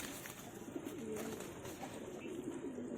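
A female highflyer pigeon coos softly in low, rolling murmurs, faint and close, over a noisy, hissy background.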